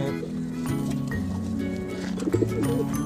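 A pigeon held in someone's hands coos in low, rolling bursts close by, with a few soft rustles and bumps from the handling.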